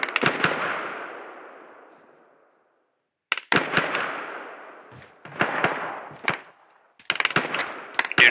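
Gunfire in a military video game: sharp shots and short bursts ring out loud and near, each trailing off in a long echoing decay, with quiet gaps between volleys.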